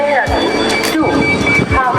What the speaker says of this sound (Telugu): ఇదే హరిద్వార్ రైల్వే స్టేషన్